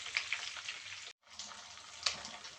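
Salmon frying in a pan, a steady close sizzle and crackle with a brief break in the middle and occasional sharp pops.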